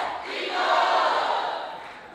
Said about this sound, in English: Can we do one Eagles cheer real quick?